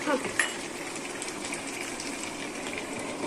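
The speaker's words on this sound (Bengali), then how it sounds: "তো মাছ দেওয়ার পরে ভালো করে নাড়াচাড়া করে নেব।" Fish in spices sizzle steadily in a pan, a loud constant frying hiss with a brief scrape of stirring at the start.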